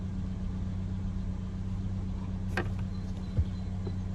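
A Toyota Yaris with a blocked fuel filter idles quietly in the background, a faint, steady low hum with a single brief click partway through.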